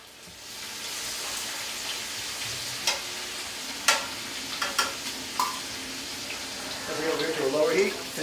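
Pieces of crab and cod fry in a pan, a soft steady sizzle with a few sharp clinks of a utensil and brief stirring scrapes near the end.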